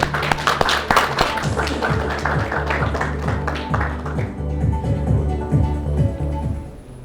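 Audience clapping at a 2022 JS Company new-product launch for a fishing rod, dense scattered claps filling the room over steady background music, loud and sustained before fading slightly toward the end.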